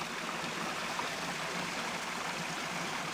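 A mountain stream with waterfalls along Grove Run Trail rushes and splashes in a continuous, even wash of water, close and steady without voices.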